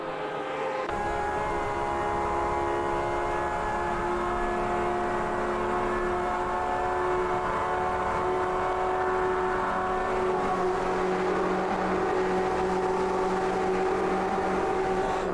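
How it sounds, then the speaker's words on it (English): A Porsche race car engine screaming down the Camel Straight at Spa during a six-hour endurance race, a loud sustained high-revving drone with rising harmonics and a gear change partway through, no talk. "The sound of that Porsche is unbelievable. Listen to it as we go down the Camel Straight."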